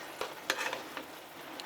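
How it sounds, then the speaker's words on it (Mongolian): Teriyaki sauce with meat bubbling in a pan and being stirred, with a few scraping stir strokes over a steady soft sizzle, close and moderately quiet. "Тийм болохоор ер нь л ингээд нэг буцлах явцад нь байн эргүүлээл"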